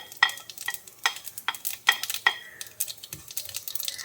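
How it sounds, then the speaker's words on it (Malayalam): Cumin seeds crackle and pop in hot oil, with a series of sharp clicks and scraping stirs at an uneven rhythm, close and clear. "ജീരകമൊക്കെ നന്നായിട്ടൊന്ന് പൊട്ടി വരട്ടെ"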